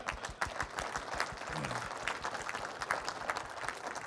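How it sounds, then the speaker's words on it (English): Modest applause from an audience at a Q&A session after a talk on raising and lowering Brix, a scattered patter of hands with a few distinct louder claps, fairly quiet and brief. "Joe, go ahead and clap for me."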